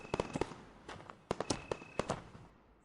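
Diwali firecrackers burst in a cartoon village, a quick series of sharp cracks and pops in loose clusters, moderately distant, with no voices over them and fading out at the end.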